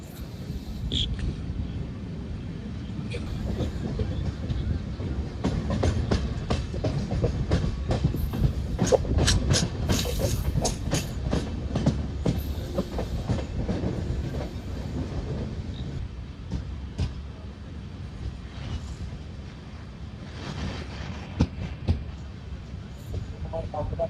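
The Palaruvi Express, a Palakkad to Tirunelveli train running with new LHB coaches, passes close by with a loud continuous rumble and rhythmic clickety-clack of wheels over rail joints, swelling and then easing off.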